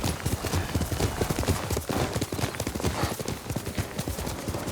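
Horse hooves clip-clop in rapid, steady rhythm in the video game Ghost of Tsushima, a close galloping beat running the whole way with faint ambient sound behind it and no voices.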